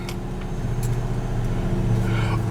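A Ford Crown Victoria Police Interceptor's engine runs just after starting, a close, low, steady idling rumble lasting a few seconds.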